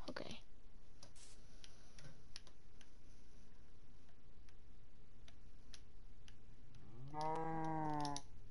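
A cow moos in Minecraft near the end, a low drawn-out call after a stretch of quiet ticking and clicking game sounds.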